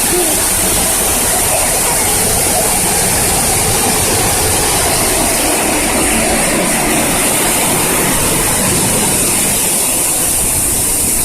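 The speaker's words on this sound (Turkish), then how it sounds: "Şelale güzel mi Poyraz?" Waterfall near a bridge at a petting zoo, a loud, steady broadband roar of rushing water that fills the whole stretch without pause.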